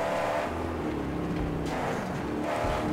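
Low, steady rumble of a V8 car engine in the Mad Max video game, droning continuously with slight revving swells and no talk.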